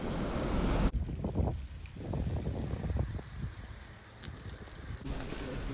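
Wind gusts outdoors at a wild camping spot during a rainy, windy bicycle tour, heard as a steady broadband rush with buffeting on the microphone throughout, and a faint high tone in the background.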